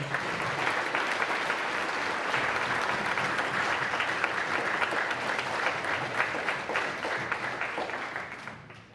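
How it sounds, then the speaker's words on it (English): An audience at an awards day applauds steadily and loudly for several seconds, dense clapping that fades slightly near the end. "Let's give those guys a big round of applause."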